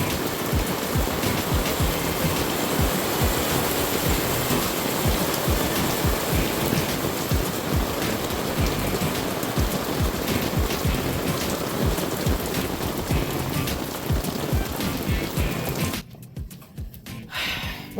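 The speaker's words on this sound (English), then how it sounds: "wind and rain." Heavy rain and gusting wind lash down outdoors in cold, snowless weather, a loud, unbroken wash of noise that holds steady before dropping off sharply near the end.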